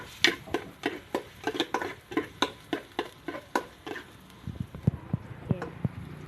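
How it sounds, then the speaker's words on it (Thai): Garlic fries in oil in a pan as a spatula scrapes and stirs in quick, regular strokes about three times a second over a soft sizzle, then a voice talks near the end. "เราจะมาเจียวกระเทียมกันก่อนนะคะ"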